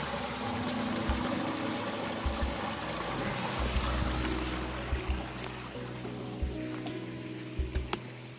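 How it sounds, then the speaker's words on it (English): Flood water pours through a lake sluice at Cowanesque Lake during a 2021 flood, a steady broadband rush with occasional low thumps and surges beneath it. "Your water's run down through a sluice pretty good."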